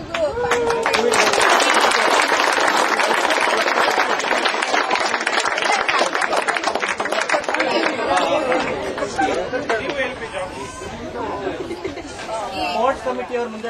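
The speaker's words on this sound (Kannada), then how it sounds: "1 ನಿಮಿಷ ಅದಕ್ಕೆ ಚಪ್ಪಾಳೆ ತಟ್ಬಿಡಿ." An audience claps during a children's prize distribution at a community sports day, with steady clapping blended into loud crowd chatter and babble that thins out toward the end.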